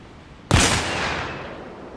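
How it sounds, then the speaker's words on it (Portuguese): An RPG rocket launcher fires in the video game Arma Reforger with a sudden loud blast that trails off into a long, roaring whoosh as the rocket flies away. No one speaks. "Agora vou dar o tiro com RPG."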